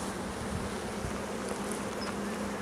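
Bees massed at a rescued hive, with comb attached using rubber bands, producing a dense, steady buzzing hum close by, continuous and unbroken with no voices.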